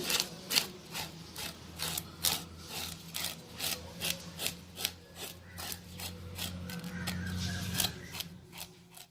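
A blade scrapes scales from a fish in quick, rhythmic rasping strokes, roughly two per second, close and crisp over a faint background hum.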